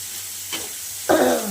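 Chopped onion, tomato and green chilli frying in a pan for a fish curry, a soft hiss that swells into a brief louder sizzle near the end.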